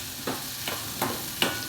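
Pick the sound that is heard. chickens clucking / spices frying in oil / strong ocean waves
spices frying in oil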